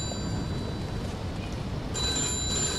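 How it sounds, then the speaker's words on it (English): A telephone rings in the Mafia II video game, with a thin, steady metallic ringing tone over a low background hum, growing a bit brighter and louder toward the end. "Where the fuck is the phone"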